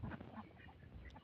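Ducks on an enclosed duck farm quack in a short, fairly close burst, several overlapping calls with no voices.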